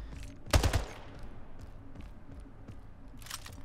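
A battle rifle fires a quick, sharp burst of about three shots during a Splitgate team deathmatch, followed by faint game ambience.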